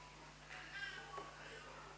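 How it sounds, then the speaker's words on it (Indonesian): A cat meows faintly in the background of an indoor religious lecture, a short, soft call rising briefly over low room hum. "Itu kucing tuh."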